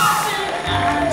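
Crowd at a women's bikini and wellness fitness competition bursts into cheers and whoops, a loud, sustained roar that swells and dips slightly.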